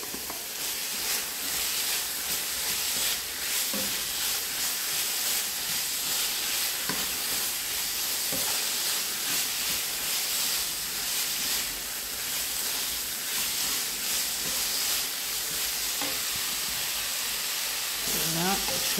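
Reserved bell peppers, added to a pan of vegetables with salt cod and mushrooms, sizzle with a continuous hissing crackle that carries steadily at close range, with occasional stirring knocks and a voice speaking at times over it.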